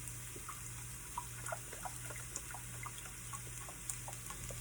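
Water runs and pours steadily at low volume into a soup pot, a soft continuous splash with a faint hum underneath and no voices.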